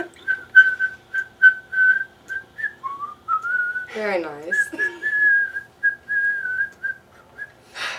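A person whistles the Jingle Bells tune indoors beside an open window, a string of short, clear repeated notes with a brief spoken interruption partway through before the melody resumes.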